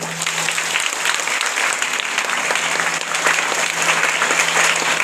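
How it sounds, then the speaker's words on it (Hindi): Congregation clapping in unison at a Hindi-language Christian worship gathering, a steady dense patter of many hands filling the whole stretch at constant loudness, with a faint low hum beneath. "सबको हालेलुया तालियां बजा देंगे"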